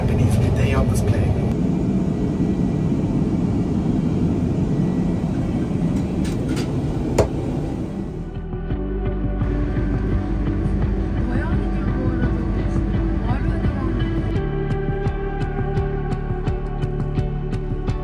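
Airbus A350-900 cabin in flight, a constant broad low roar of engines and airflow with a faint steady hum, a brief thud partway through, and a person talking over it.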